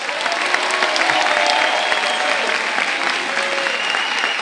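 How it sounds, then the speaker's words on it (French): Audience applause for a performer named Rémi at a Nouméa show, a steady wash of many hands clapping with some crowd noise mixed in throughout. "pour l'applaudir Rémi, s'il vous plaît."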